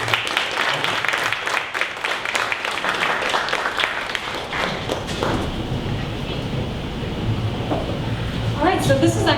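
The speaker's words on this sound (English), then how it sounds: "one more round of applause for Terra App" Dense, lively applause from the crowd at a 1 Million Cups startup pitch gathering in Dallas, loud and full at first, then thinning out into scattered claps and room chatter as people start talking.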